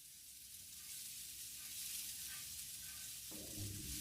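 Food fries in a pan during cooking, a soft steady sizzle and hiss that grows a little louder near the end as it is stirred, faint and alone without talk.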